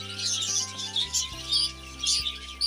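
Parrots chirp in a busy evening chorus, overlapping bright high calls that keep coming in clusters over a low steady hum, fairly close and with no voices.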